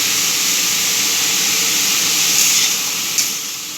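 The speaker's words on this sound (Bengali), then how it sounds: "কড়াইতে তেল গরম হচ্ছে।" Oil heating in an iron wok (kadai) gives a loud, steady broadband hiss, close and unbroken, with a faint clink near the end as the sound eases slightly.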